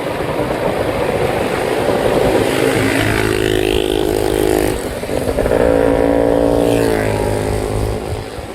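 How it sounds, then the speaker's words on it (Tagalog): A big motorcycle passing on a roadside near a river, its engine loud and close, swelling and revving twice as it goes by, with no talking over it. "Oh, laki ng motor, oh."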